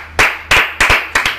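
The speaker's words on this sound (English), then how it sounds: "let's just give him a round of applause." Hands clap near and loud in four sharp bursts spaced evenly, like a short round of applause from one or two people during a Resident Evil 2 playthrough, with no talk over it.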